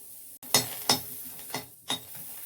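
Garlic cloves and two chillies dropped into a karahi (wok) in quick succession, giving a few separate clinks and light thuds with short rustles, close and fairly quiet, with no voices.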